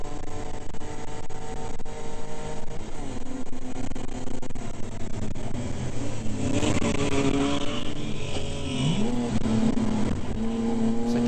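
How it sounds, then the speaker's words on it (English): A 4-cylinder BMW 318 E30 race car holds high revs on a race track against a 6-cylinder BMW 320, with a continuous loud engine drone and rising and falling pitch as gears shift. "Trying to keep the RPM up on the 4-cylinder 318."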